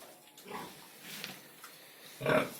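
Piglets on a pig farm, due for vaccination before weaning from the sow, give soft, scattered grunts at close range, ending in a louder snuffling grunt.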